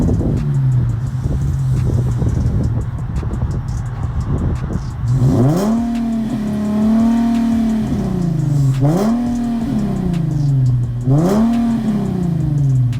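An Infiniti G37 sedan with a muffler delete idles with a loud, raspy rumble, then revs three times. Each blip rises sharply and falls back, close and unmuffled.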